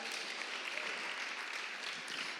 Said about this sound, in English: Let's give them a great hand clap quickly.